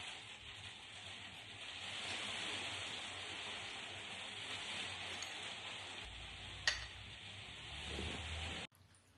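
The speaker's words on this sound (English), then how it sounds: "It's just started raining." Rain has just begun to fall, making a faint, steady hiss with a single sharp click near the end before the sound cuts off abruptly.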